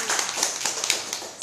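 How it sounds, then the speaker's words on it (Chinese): Hands clapping during a beginner clarinet class, a run of quick, sharp claps in an uneven rhythm over a steady background hiss. "拍拍手一下"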